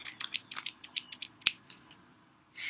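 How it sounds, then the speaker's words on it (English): Scissors snip repeatedly through packaging in a quiet room, about ten quick crisp cuts in an even rhythm, then a single sharper snap and a brief rustle. "I got my scissors."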